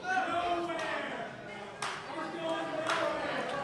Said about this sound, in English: we're starting to hear this crowd really rally behind Nick Aldis